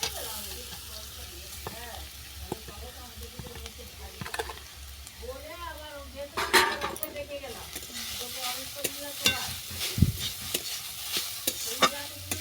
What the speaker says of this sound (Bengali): ঘি গরম হয়ে গেলে তুলে দেবো গ্রেট করা মূলো।